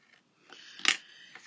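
Scissors snipping excess paper or card off a handmade Halloween treat box, a single crisp close cut preceded by faint rustling handling noise.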